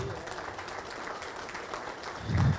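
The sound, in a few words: audience applause at a lecture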